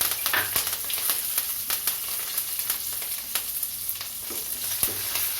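Cashews frying lightly in oil in a pan alongside green chillies and curry leaves for tomato rice, a soft continuous sizzle dotted with sharp crackles and pops, no talking.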